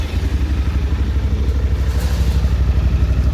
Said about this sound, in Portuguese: vou ligar aqui a moto para vocês poderem escutar o ronco